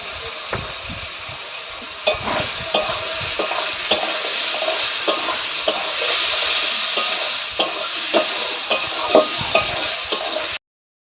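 Salt, ground cumin, and ginger and green chili paste sautéing in a pan for a fish curry, a dense steady sizzle broken by repeated clicks and scrapes of stirring, no voices.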